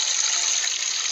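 Water at Dhardhariya Waterfall near Senha, Lohardaga, produces a constant, bright hiss of falling water, fairly loud and unbroken over a short stretch, with no voices.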